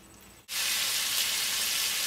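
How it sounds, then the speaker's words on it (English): Loud, steady sizzling of bacon frying in a pan, starting abruptly after a brief quiet moment and continuing without a break. "in here I have bacon that I'm frying up"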